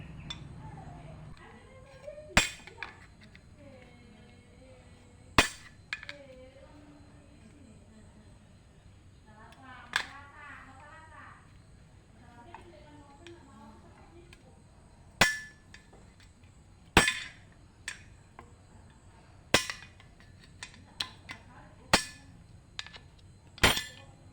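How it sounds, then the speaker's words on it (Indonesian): Plastic car trim clips are pried loose with a screwdriver, giving a series of sharp, close clicks and snaps spaced irregularly through a quiet room. "Kita lepasi menggunakan obeng, kita keluarkan ya"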